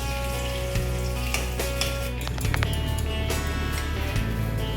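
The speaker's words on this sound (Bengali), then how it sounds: "আলু ভাজা হওয়া পর্যন্ত আমরা অপেক্ষা করি" Potatoes frying in hot oil, a continuous close sizzle with occasional stirring clatter and a few sharper pops throughout, no voices.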